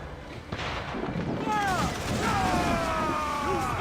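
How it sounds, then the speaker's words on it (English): Mortar fire from Assassin's Creed Black Flag rumbles as dull booms and a steady roar around a sailing ship, with whistling tones over it and a voice speaking through the clip. "I'm not gonna get hit by a bunch of mortars."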